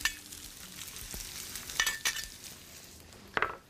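Chopped onion hitting hot oil in a small wok, a soft steady sizzle with a few sharp scraping clicks of a utensil against the metal.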